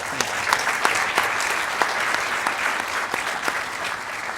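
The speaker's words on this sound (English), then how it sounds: "join me in giving them a round of applause" Audience applause at a live musical performance, brisk dense clapping with distinct sharp claps standing out, steady and fairly close for several seconds.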